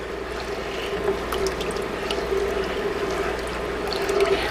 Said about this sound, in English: So I'm just going to stir this around.